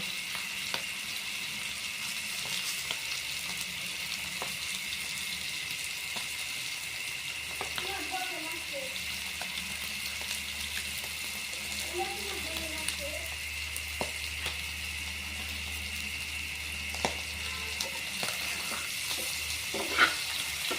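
Chopped rui fish pieces fry in a pan with a constant low sizzle, a few sharp clicks of stirring scattered throughout, and a voice speaking quietly in places over it.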